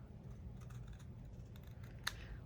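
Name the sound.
scissors cutting paper tag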